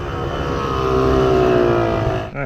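A Yamaha YZ250 two-stroke motorcycle engine, warmed up, revs steadily from idle and holds a loud, buzzing pitch, then the throttle snaps shut and the sound drops away at the end.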